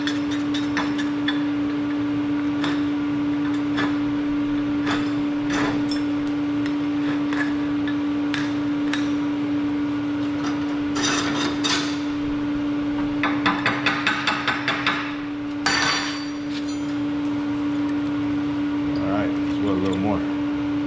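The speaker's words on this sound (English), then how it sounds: "Get a little bit of slag off right here." Slag is chipped off a stainless steel stick weld made with 309L rods: sharp metallic taps and scrapes come in irregular bursts over a constant electrical hum, close and moderately loud.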